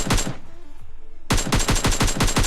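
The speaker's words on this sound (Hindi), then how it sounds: "तभी थर्ड की साइड से फिर से कुछ बोट्स फायर होती है" Gunfire from bots in the video game PUBG Lite comes as rapid automatic bursts, loud and close, with a brief pause before another fast volley.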